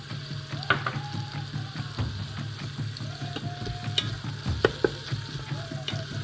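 Crushed pimento berries, cumin and clove fry in a pot, a rapid crackling sizzle full of tiny pops over a low steady hum, close and constant with occasional louder knocks, no voices.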